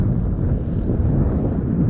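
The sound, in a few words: wind noise on a sailboat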